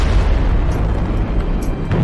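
A deep, sustained boom of an explosion at a rail yard after a train derailment fills the whole clip, loud and rumbling with steady low-end roar and no voices.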